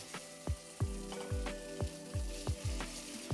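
Halibut sears in high-quality olive oil in a non-stick pan, a steady close sizzle broken by a rhythmic run of low knocks and thuds about every half second, with no voices.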